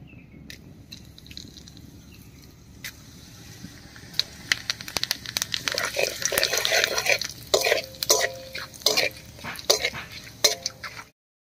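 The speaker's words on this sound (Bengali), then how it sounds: "এই তেলের মধ্যেই ফোড়ন দেব, আর ফোড়ন দেব গোটা গরম মশলা, গোটা জিরা আর একটা তেজপাতা দিয়ে" Whole garam masala, cumin seeds and a bay leaf hit hot oil in a home kitchen, starting quietly before bursting into crackling, popping sizzles with irregular sharp spits that fade off near the end.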